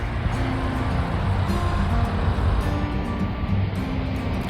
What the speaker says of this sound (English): So we hopped in the car and we left one forest and headed into another.